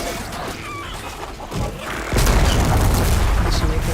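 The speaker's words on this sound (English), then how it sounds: "Time to drop that bomb!" A bomb dropped and exploding in Horizon Forbidden West: a low thud, then a sudden loud, sustained rumbling blast that fills the rest of the clip.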